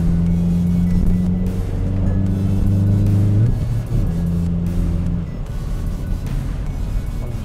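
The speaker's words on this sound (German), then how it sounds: "der Auspuff hat dann eben auch Fehlzündung, also knallt" 2022 Hyundai i30N with 280 hp revving hard, the engine droning and shifting pitch up and down at close range while the exhaust crackles and pops with backfires, no talk.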